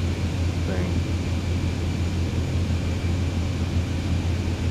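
A steady engine drone and hum from an airliner taxiing in Microsoft Flight Simulator 2020, continuous and even at moderate level, with a brief faint voice near the start.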